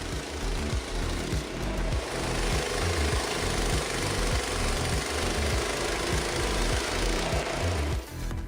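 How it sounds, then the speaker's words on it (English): A Frontier OS23 portable sawmill cuts through wood with a loud, steady engine drone and a rapid rhythmic chattering pulse, continuous throughout and close by, with no talking. "The OS23 saw from Frontier Sawmills is such a powerful machine, with the ability to cut wood up to 58 centimeters in diameter"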